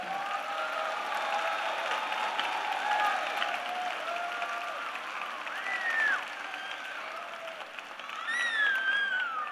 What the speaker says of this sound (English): Let's give one more round of applause to our baccalaureate degree students today.